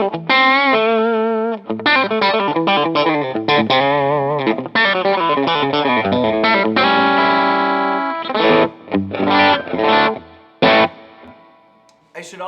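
Electric guitar with Lollar Novel T pickups, tone knob near 8, drives a Fender Pro Junior in a 1x12 cabinet with a Greenback speaker, mic'd with a Sennheiser E609; a continuous run of chords and lines, loud, with short gaps near the end.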